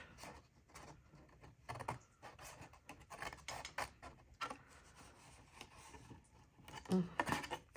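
Scissors snip through fabric repeatedly in short, irregular bursts, close and fairly quiet, with no voices.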